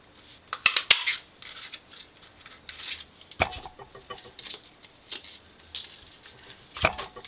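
A branch-shaped craft paper punch cuts plain cardstock, giving a few sharp clacks and crunches at close range among soft rustling paper handling, with no talk.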